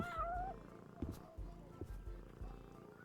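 A cat character in Ben 10: Power Trip gives a short meow near the start, followed by soft game thuds and ambient sounds.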